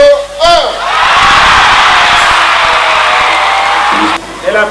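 At the crowning of Miss Togo 2017, during the 23rd edition of the pageant, a large audience erupts into loud cheering, whoops and applause that hold for several seconds before cutting off abruptly.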